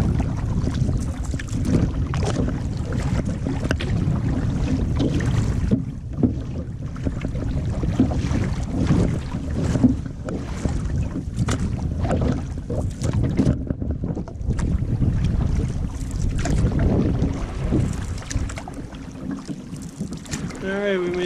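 A solo canoe paddled across open water in wind, with steady paddle strokes and splashing against a constant rush of wind buffeting the microphone, close and continuous.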